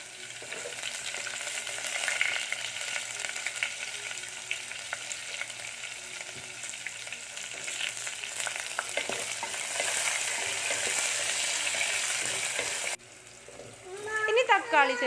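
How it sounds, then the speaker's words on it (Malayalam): Fennel seeds, ginger, garlic and green chilli sautéing in oil for a mackerel fish curry, giving a steady loud sizzle with occasional stirring scrapes, ending in a brief quieter moment and a voice speaking. "ശേഷം നമ്മൾ വലിയ ജീരകം ഇട്ടിട്ട് നന്നായി വഴറ്റി കൊടുക്കുക"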